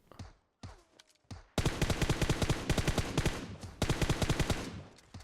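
Gunfire in PUBG Mobile: a few separate single shots, then long rapid automatic bursts of evenly spaced cracks, close and crisp, with a short pause between the two strings.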